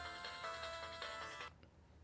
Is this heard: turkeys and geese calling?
no